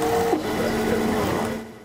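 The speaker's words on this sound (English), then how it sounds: "The 3D printer melts the plastic, and it works like a CNC machine." A 3D printer extruding plastic for a puppy's prosthetic leg, its motors giving a loud, steady whine that shifts pitch as the print head moves, with no voices.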